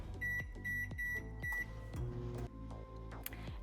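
A microwave oven runs while cooking a protein mug cake in a mug or Tupperware, giving off a low hum under a series of short, evenly spaced electronic beeps followed by a few sharper clicks, heard close and fairly quiet.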